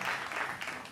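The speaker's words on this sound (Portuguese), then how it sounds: "Provou uma salva de palmas para Jorge Menezes." Studio audience applause greeting a guest on a late-night talk show, a dense continuous wash of clapping that fills the whole brief moment.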